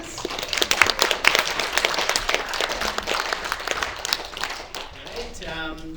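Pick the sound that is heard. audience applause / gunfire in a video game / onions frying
audience applause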